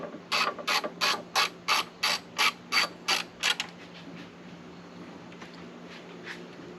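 A ratchet tightens a bolt on a Jeep hood strut bracket in about ten quick, evenly spaced bursts of clicking, close and crisp, followed by a few faint clicks in a quiet room.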